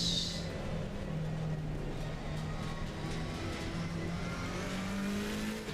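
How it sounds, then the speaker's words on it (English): Race car engines in Assetto Corsa Competizione during a racing session, a steady loud engine drone with rising and falling revs and a constant harmonic tone throughout, no talking. "Love the sounds of the cars. I get that feel I'm in a race car."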